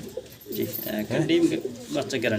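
Pigeons coo nearby in low, rolling, throaty calls, while someone talks at the same time.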